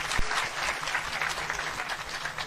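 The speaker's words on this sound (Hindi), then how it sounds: "इनके लिए तालियां, वेरी वेल डन।" Audience applause fills the room, a steady wash of clapping from many hands at an even level throughout, with no talk over it.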